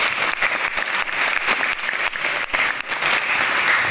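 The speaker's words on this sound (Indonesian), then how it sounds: "Tepuk tangan dulu dong." An audience at a school lecture on Belitung island claps together in steady, dense applause that holds for several seconds, close and full, with no speech over it.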